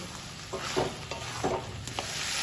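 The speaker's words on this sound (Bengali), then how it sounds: "দু মিনিট পর আমি এবার একবার ঢাকাটা খুলে নেব হালকা হাতে আবার নেড়ে দেব" Pumpkin pieces for kumror chokka gently stirred in a pan, softened under a lid: a few soft scraping strokes with a light sizzle underneath, close and fairly quiet, no voices.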